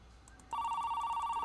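A telephone in the horror game The Apartment starts ringing after a quiet half second, a steady electronic trill that stays loud and continuous to the end.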